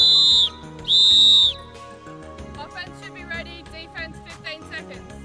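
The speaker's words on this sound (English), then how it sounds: "At 75 seconds, blow two whistles." Two long, loud, steady referee whistle blasts in a timing and scoring setting, the second longer, followed by music with busy melodic tones.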